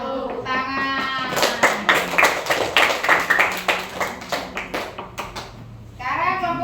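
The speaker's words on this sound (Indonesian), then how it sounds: "Tepuk tangan." Classroom clapping after a group presentation, a brisk rhythmic round of children's hands clapping together for a few seconds, with voices speaking just before and after.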